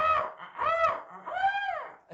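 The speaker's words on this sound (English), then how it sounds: "it's a parrot, apparently." A parrot gives three loud, nasal, honking calls in quick succession, close by with nothing else heard.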